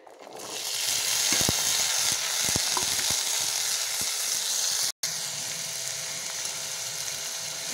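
Potatoes fry in mustard oil with a steady, loud, close sizzle that hisses on without a break, with a few faint scrapes and clicks and a very brief dropout near the five-second mark.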